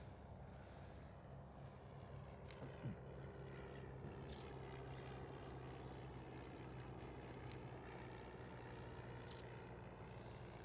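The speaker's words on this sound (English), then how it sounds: "Got another plane coming in here." A propeller airplane coming in to land at night near an airway beacon, heard as a distant, steady engine drone that holds evenly throughout, alone with no voices.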